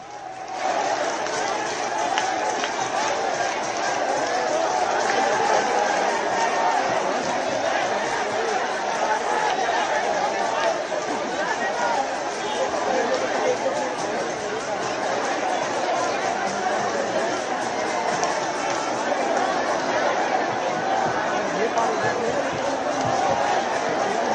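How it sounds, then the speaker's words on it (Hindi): Large, dense protest crowd outside Rajiv Chowk metro station in Delhi, a steady wash of many voices and chatter with occasional shouts, loud and continuous throughout. "राजीव चौक मेट्रो स्टेशन के बाहर भी भारी भीड़ देखने को मिली"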